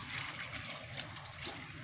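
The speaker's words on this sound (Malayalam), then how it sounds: "വെള്ളം ഒഴിച്ചു കൊടുക്കാം" Water is poured into a cooking pot for a home-cooked dish, making a brief, faint, continuous splashing and gurgling pour.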